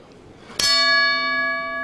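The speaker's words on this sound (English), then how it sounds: "So the opening bell sounds in this World Series boxing Group A encounter" A single bell strike opens a 60 kg lightweight World Series Boxing bout, one loud clang ringing on with a long sustained metallic decay that fades slowly over quiet arena ambience.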